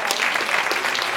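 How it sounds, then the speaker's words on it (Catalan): Audience applause during a Catalan stand-up comedy set, a dense burst of clapping from a crowd, loud and continuous throughout. "Aquest aplaudiment ha sigut..."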